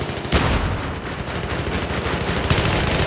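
Rapid video-game gunfire crackles in uneven bursts, with several sharp, loud shots cutting through a continuous rattle of distant shooting.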